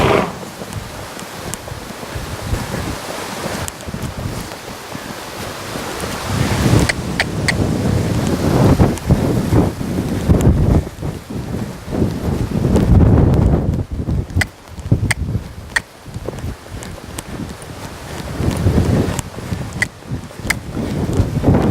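Rain drums steadily on a roof on a cold day, a dense, continuous hiss and patter that swells and eases in gusts across the whole stretch, with no talking.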